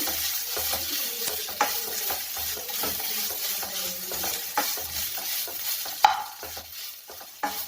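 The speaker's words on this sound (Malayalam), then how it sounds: "ഇനി നന്നായിട്ട് ഒന്ന് വഴറ്റിയെടുക്കാം" Steady stirring and sizzling of taro stems sautéing over low heat in a pan, with scraping and clinks of a spoon against metal, close and continuous throughout.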